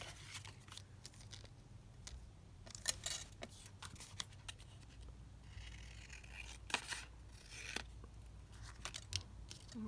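Scissors trim altered jumbo paperclips in a quiet room, giving faint, scattered snips and small metallic clicks at an irregular pace.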